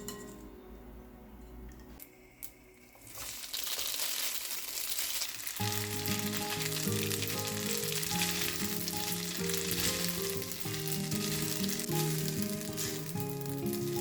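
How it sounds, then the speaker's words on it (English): Drained pasta tossed in a frying pan with butter, starting with quiet clinks and handling before a loud, steady sizzle takes over and continues throughout, close by. "Drain the pasta and toss it in the pan with butter."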